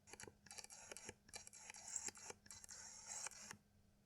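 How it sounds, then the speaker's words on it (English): A Nikon 35mm f1.8 DX lens autofocus motor whirring and clicking in short, quick bursts, heard close but quiet, with repeated brief buzzing pulses and no talking. "it has some of the loudest autofocus motors that I've used"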